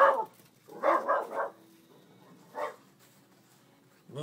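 A moose hunting dog barks outdoors, a single sharp bark followed by a quick burst of three and then one more after a pause, loud and close against a quiet background.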